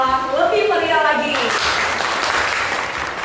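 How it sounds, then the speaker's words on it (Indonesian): Applause breaks out from an audience at an MC school event in Surabaya, right after a voice speaking through a microphone. The clapping is a dense, fairly loud wash that fades slightly toward the end. "Beri tepuk tangan untuk yang ada di sebelah kanan saya."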